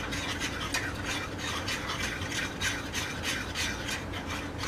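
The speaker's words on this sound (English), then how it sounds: "And then we're just gonna mix this up real quick with a fork." A fork briskly stirs cornstarch into hot water in a container, rapid rhythmic scraping and clinking strokes repeating steadily throughout, with no talking.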